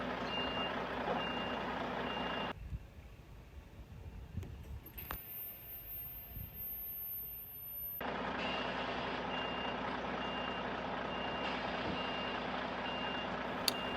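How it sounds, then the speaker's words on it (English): An articulated lorry creeps backward under its trailer while its reversing alarm beeps steadily at a distance over a low diesel idle. The beeping pauses for a few seconds midway, then resumes. "He's now going to reverse slowly back in to engage the pin."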